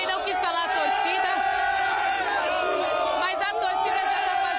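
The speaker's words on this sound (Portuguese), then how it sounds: "mas a torcida já tá fazendo a festa" Flamengo and Athletico Paranaense football supporters roar and chant as one dense crowd at a match, a loud continuous wall of cheering and shouts with voices talking close by.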